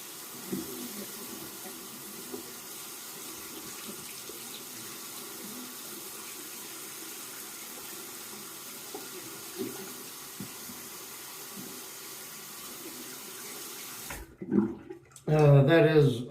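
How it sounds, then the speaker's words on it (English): A faucet runs in a steady, hissing stream as a Personna II safety razor is rinsed in the sink between lathered passes, then cuts off and gives way to a few brief close knocks. "I'm going to go ahead and rinse the razor"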